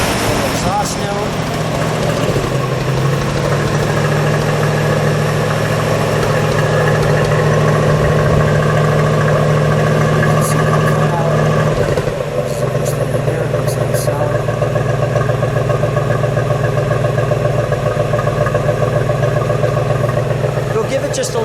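A 1955 Chevrolet Corvette roadster's V8 idles loudly and close, a steady, throbbing low exhaust rumble that shifts slightly in pitch partway through, with voices faintly audible beneath it.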